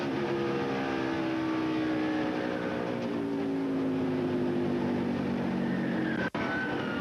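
Onboard engine of Kenseth's race car in the 2001 Busch Series at Chicago, a loud continuous drone with slowly falling then rising pitch, one sharp brief dropout near the end.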